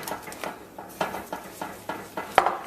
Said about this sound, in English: I'm going to continue stirring this here.